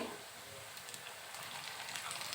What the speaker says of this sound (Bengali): এই যে তেলে পাকোড়া দিচ্ছি সেই শব্দ শুনে আমার বাচ্চারা কিন্তু এসে দেখে গেছে